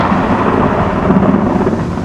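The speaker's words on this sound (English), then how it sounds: "Okay, we're heading straight into the thunderstorm." Loud thunder rumbling during a thunderstorm, a heavy continuous low roar with rain-like hiss, close and dominant for the whole stretch with no voices.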